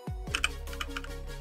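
Rapid typing on a computer keyboard, a quick run of close, crisp key clicks filling the moment without any voice.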